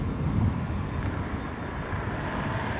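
A Boeing 787 Dreamliner on the runway at Los Angeles International Airport, heard as a broad, steady jet roar with wind rumble, continuous and fairly loud from a distance.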